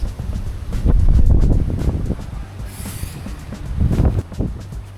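Strong gusts of wind buffet the microphone with deep rumbling roars that surge and ease in waves, loud and close, with no one talking.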